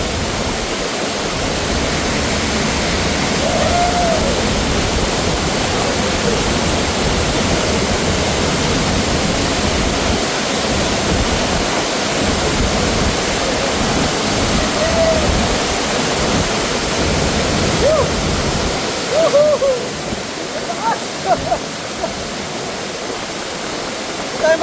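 A hidden waterfall pours in a dense, steady roar of falling water, loud and close throughout, with a few faint voices barely surfacing near the end.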